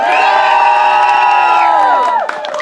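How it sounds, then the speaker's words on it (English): An audience at a Shakespeare-themed holiday comedy show erupts in loud, sustained cheering and whooping, a dense wall of voices that holds steady and begins to fade near the end. "Hoot, holler, clap, cheer, stomp your feet, whistle"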